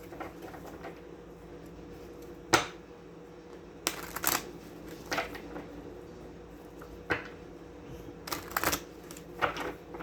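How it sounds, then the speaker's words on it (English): Tarot deck being shuffled, with a steady low background hum and scattered sharp card snaps and riffles, some doubled, spaced every second or two; no talking. "One more shuffle and we'll cut them 3 times,"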